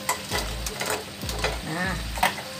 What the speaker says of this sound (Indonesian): Lalu kita aduk-aduk ya.